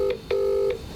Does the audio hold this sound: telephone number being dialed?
yes